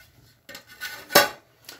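A metal fork scrapes and clinks against a pot of cooked white rice, making a few short, sharp metallic taps with quiet gaps between them.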